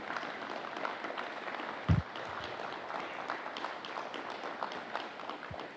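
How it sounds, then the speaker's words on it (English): An audience applauds a FIRST Robotics team at a community demonstration, a sustained crowd clapping with one louder thump near the middle. "So can we all just give these guys a round of applause"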